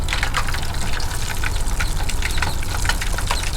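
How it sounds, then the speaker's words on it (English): Frying oil with water in it bubbling hard while fish cooks at a truck campsite, a loud continuous crackling and popping sizzle with a dense rumbling undertone. "Some water from the lid got in the oil, and that's why it's like making that weird bubbling sound"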